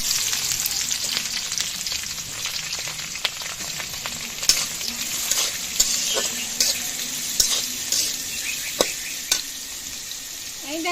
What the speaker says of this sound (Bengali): এই গোটা গরম মশলা তেজপাতা দিয়ে দিব পেঁয়াজ কুচি